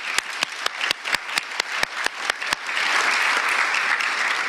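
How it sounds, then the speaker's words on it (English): An audience at an annual forum applauds, opening with distinct rhythmic single claps that build into dense, sustained clapping from a large crowd, with no talk. "a big clap to all of them"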